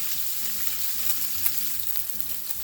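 Salmon fillet frying in a pan for a garlic butter dish, a steady close sizzle with a faint low background hum and no talking.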